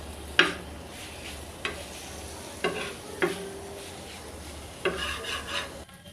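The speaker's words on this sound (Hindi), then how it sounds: "ये हरी मिर्चें ऐड करेंगे इसमें, इसको मिक्स कर देंगे।" Green chillies being stirred into chicken tikka boti on a hot tawa, a low sizzle with several sharp metallic scrapes and clinks of a spatula at irregular intervals, no talking.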